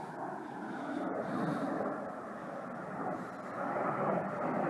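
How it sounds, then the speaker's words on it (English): Propeller or jet airplane passing overhead near Coupeville, a steady broad engine rumble that swells slightly toward the end, loud and continuous with no talk. "I can't see that plane, but you can definitely hear it."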